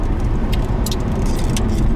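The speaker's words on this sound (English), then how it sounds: "there goes a Model S on the other side of the freeway, a nice black one." A black Tesla Model S passes on the far side of a freeway, a steady broadband road roar with tire and wind noise that stays loud throughout, with no talking.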